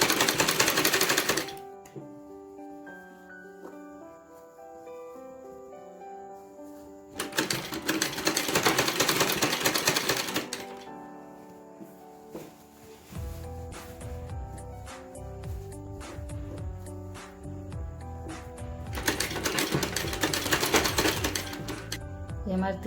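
A sewing machine stitches salwar fabric in three loud, fast bursts of mechanical whirring, separated by quieter stretches where someone talks over soft background music.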